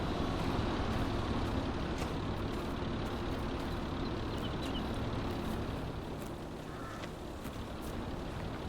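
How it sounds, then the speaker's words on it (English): A Massey Ferguson tractor engine idles in a farming video game, a steady low rumble with a faint mechanical hiss and an even level throughout, with no talking. "we're gonna let the Massey Ferguson run for a bit."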